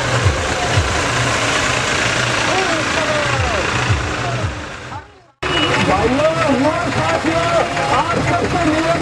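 Tractor engines rumble low and steady at a farmers' tractor rally near the Bhadera toll plaza in Lunkaransar, under loud continuous speech from a man addressing the crowd, with a brief dropout midway.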